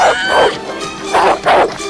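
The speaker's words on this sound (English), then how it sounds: "The dog barked and charged at them" A vicious dog barks and yips in short bursts, loud and close, with several sharp barks clustered over a couple of seconds.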